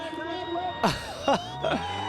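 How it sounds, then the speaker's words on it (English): A crowd at a crash show with spectators in the stands cheers and whoops in three loud bursts over a steady murmur of voices, with someone talking over them. "The crowd is into it."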